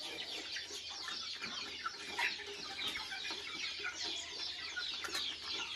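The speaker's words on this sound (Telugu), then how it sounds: "ఎంత ముద్దు గుచ్చి తింటున్నాయి చూడు." Native country chickens cluck steadily while pecking at grower feed scattered for them, a busy flock of soft overlapping clucks and scratches close by, with no talking.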